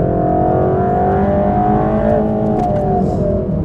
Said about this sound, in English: To the apex and gently accelerating back out.